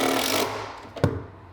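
A power driver sends a 1 1/4 inch screw into a plywood kitchen cabinet base: a brief, loud whirring burst, then a quiet pause and a single dull knock, close up with no talking.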